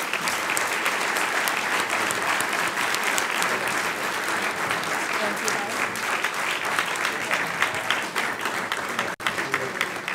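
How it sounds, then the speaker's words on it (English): Sustained applause from a luncheon crowd at the National Press Club for two visiting mayors, a thick, even roar of many clapping hands lasting around ten seconds, loud and continuous with only a brief dip near the end. "I would like to ask for a round of applause for our speakers."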